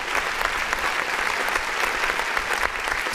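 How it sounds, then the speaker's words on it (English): Synthetic, digitally produced hand claps sound inside a music beat, a dense, bright clapping texture that runs continuously at moderate loudness over the track. "Oh my gosh, the fake digital claps."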